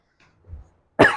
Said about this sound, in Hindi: थोड़ी सी खांसी मैं कंट्रोल कर रही हूँ।